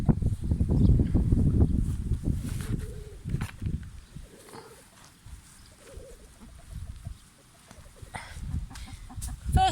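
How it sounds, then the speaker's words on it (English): Soft clucks and low murmurs from chickens close by, mixed with rustling and scraping of outdoor work, occasional sharper calls rising above the clatter. "Chickens have come to help as usual."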